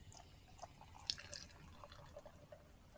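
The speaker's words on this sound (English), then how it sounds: "I'm gonna pour it in my cup." Strawberry beer is poured from a can into a cup in a faint, quiet trickle with a few soft drips and splashes, heard close up and alone.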